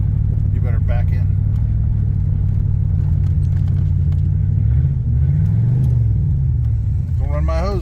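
A 1984 Camaro Z28 engine idles and drives with a steady, loud, deep rumble, rising and falling through a slipping transmission, with voices talking over it throughout.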